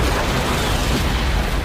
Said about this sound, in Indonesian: hingga saat menggunakan peluru kaliber, ledakan terjadi sangat amat dahsyat.